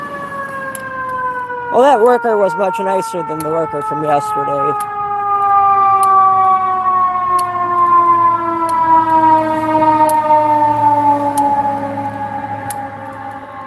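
An ambulance siren wails loudly through a long, steady rise-and-fall sweep as it passes on a public street, with a person talking briefly over it near the start.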